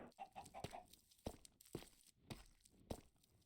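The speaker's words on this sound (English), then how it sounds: "It's the chicken. That's what we're afraid of." Clucking from a chicken in a video game, several short squawks and clucks spaced out over a few seconds with soft shuffling steps between them.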